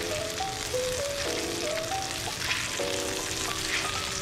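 Rainbow trout fries in butter in a pan, giving a steady, close crackling sizzle that runs unbroken under soft background music.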